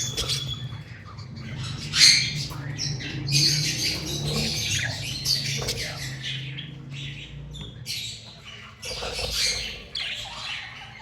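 Large pet birds squawk and chatter at a pet shop in Islamabad, a dense overlapping din of harsh calls and chirps that swells and dips throughout.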